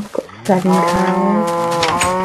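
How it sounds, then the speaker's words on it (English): Cows on a small farm in the Minecraft video game let out a loud, sustained moo after a brief pause, close and steady; a voice speaks briefly at the start. "My little cow farm."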